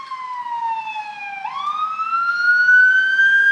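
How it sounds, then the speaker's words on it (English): A fire truck siren sounds out on a street, its wailing tone sweeping down and then back up, loud and fairly close as it passes through a historic town district. "Oh, here comes the fire truck."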